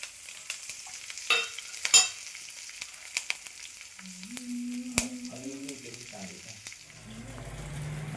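Ginger, garlic and shallots going into a pan to fry, with a few clatters of utensils and a faint sizzle underneath, fairly quiet, while a voice talks over part of it.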